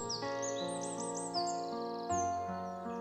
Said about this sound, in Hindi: रास्ते में उनको वही तोता मिलता है।